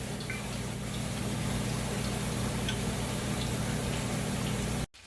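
Squirrel meat dropped into hot frying oil gives a steady, dense sizzle and crackle that holds loud and close for about five seconds, then cuts off abruptly.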